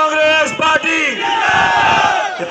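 A large rally crowd roars a Congress party slogan in unison, a loud, close mass of voices rising and falling together, with one lead voice calling the line out.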